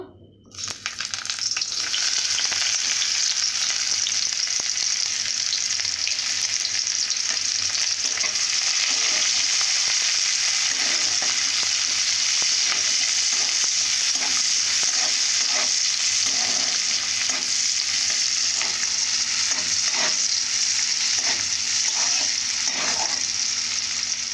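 Onions fry in hot oil with crab and chili powder for a spicy crab kosha, a loud continuous sizzle up close with scraping spatula strokes stirring throughout, no talking.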